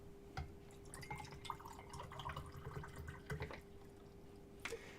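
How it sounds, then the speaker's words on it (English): Water trickles and drips into a cup at a desk, soft and fairly faint, with small splashes and a steady low background hum. "I need to pour some more water into this other cup."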